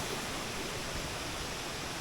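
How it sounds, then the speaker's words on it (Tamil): Jalagamparai waterfall pours down a mountainside on a trek, a steady broadband roar of falling water heard close and continuous, with no voices. "எவ்வளோ தண்ணி மலை மேலேருந்து வருது தெரியுதுங்களா?"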